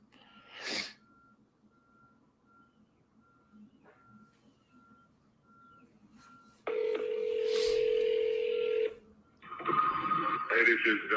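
A telephone call is placed: a short burst of noise, then evenly spaced ringback tones, followed by a loud sustained tone and a voice answering on the line.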